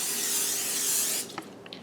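Cooking spray hisses steadily into an 11 by 7 baking dish for over a second, then stops abruptly, followed by a few soft clicks and light taps.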